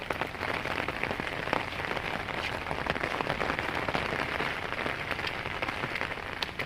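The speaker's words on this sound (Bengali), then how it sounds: "পুকুর ভর্তি হয়ে গেছে, আর এদিকে খুব বৃষ্টি পড়ছে।" Heavy rain pours steadily near a filled pond, a dense, even hiss of drops hitting surfaces that holds unchanged throughout, with no voices.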